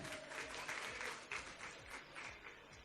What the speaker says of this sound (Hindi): तो तालियां हो जाए दीप्ति जी के लिए।